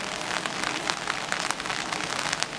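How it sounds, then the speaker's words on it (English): Heavy rain pours in the woods at night, a steady close hiss with scattered sharper drop hits pattering through it and no talking. "it's pouring rain out"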